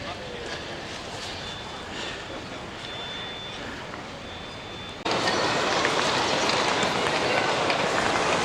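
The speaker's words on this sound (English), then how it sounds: "Never been on a TGV before." A TGV high-speed train at Paris Gare de Lyon gives a steady, dense rushing rumble that jumps noticeably louder partway through and stays constant afterwards.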